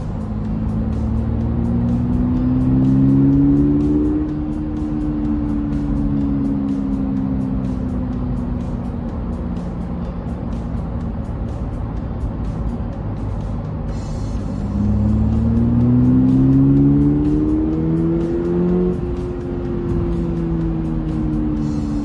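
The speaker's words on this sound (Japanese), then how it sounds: "高速道路においてあえてシフトダウンし、4000回転以上回してみるとこのような音を発してくれます。" A Subaru BRZ sports car on a highway, downshifted and revved past 4000 rpm, with a loud, steady engine drone that rises in pitch, eases back, then climbs again, heard from inside the cabin over road noise.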